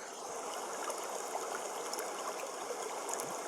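Bubbling water effect from a public domain sound collection, a steady broadband hiss and gurgle like a running stream, continuous and fairly even in loudness for the whole stretch, with no voices.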